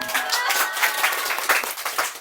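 A brief, lively burst of clapping from a small audience at an IT class after a Raspberry Pi LED demonstration, close and fairly loud with distinct hand claps.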